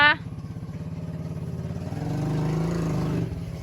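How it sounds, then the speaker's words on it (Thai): Motorcycle engine running at a farm with cattle, a steady low mid-pitched drone that swells louder toward the end, with someone talking over it. "ยินเสียงรถมอเตอร์ไซค์พอบอ"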